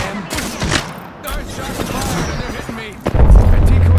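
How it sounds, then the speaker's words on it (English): Gunfire in Apex Legends, a battle royale shooter: bursts of shots crackle through the first seconds, then a louder, heavy burst of fire lands near the end, mixed with game voice chatter. "Shots fired and they're hitting me."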